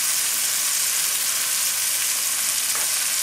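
Onions frying alongside tilapia in a single pan give a steady, dense sizzle and crackle that stays close and loud throughout, with no talking over it.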